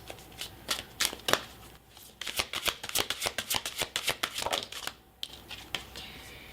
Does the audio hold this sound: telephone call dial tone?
no